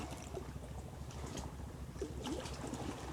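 A small fishing boat is put into the sea by a Thai coastal fisher, with water sloshing and trickling against the hull steadily under a constant outdoor wash, no talk heard.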